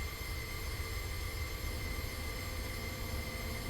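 A train in Train Simulator 2012 rolls past with a steady, dense rumble and metallic wheel whine, constant and loud throughout with no voices.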